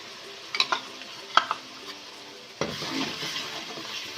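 Ginger garlic paste fries with already fried onions in a pan over a low flame: a few light utensil clinks, then a steadier sizzle and scraping as it is stirred close by.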